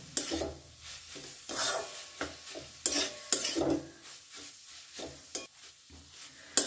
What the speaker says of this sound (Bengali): পোস্ত খুব ভালো করে থোড়ের সাথে মিশিয়ে নিতে হবে।